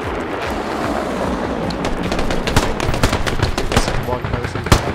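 Machine gun fire in the tactical shooter game Squad, rapid bursts of gunshots cracking over a noisy battlefield background and growing louder and more frequent toward the end.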